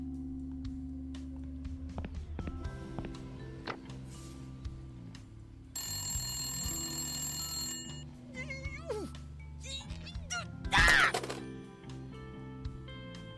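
A telephone rings inside the point-and-click adventure game Randal's Monday, with repeated electronic ring bursts over a steady game soundscape and a louder burst near the end.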